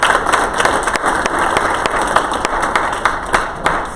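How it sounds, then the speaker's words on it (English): Steady applause from an audience at a student government senate meeting, many hands clapping together in a dense, continuous wash with a few sharper claps standing out. "Let's give Bridget 1 more round of applause"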